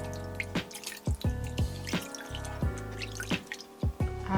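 Water drips and splashes over a sink during a face rinse, a series of close, distinct plopping drops in irregular rhythm with no talk.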